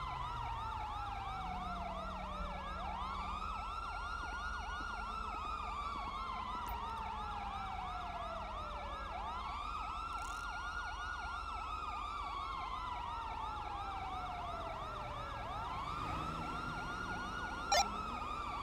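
Wailing police siren from a patrol car in the GTA V LSPDFR police game, sweeping up and down in long repeated cycles, loud and continuous throughout with a steady engine rumble beneath.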